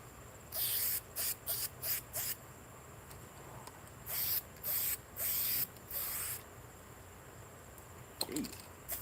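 An aerosol spray paint can with an adjustable vertical or horizontal nozzle and a stiff trigger hisses in a run of short bursts, quick and choppy at first, then in longer bursts, close up with no talking.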